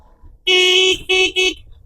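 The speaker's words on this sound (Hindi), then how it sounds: "देखो हॉर्न की क्वालिटी तो ठीक है" The stock horn of a Hero Xtreme 125R motorcycle sounds up close and loud: one long honk followed by two short blasts, with a bright, buzzy tone.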